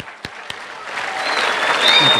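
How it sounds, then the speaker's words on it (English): Audience applause at a government access channel event: a couple of isolated claps at first, then clapping swells into a building wash of applause with a few cheers or whistles rising over it. "Give yourself a round of applause."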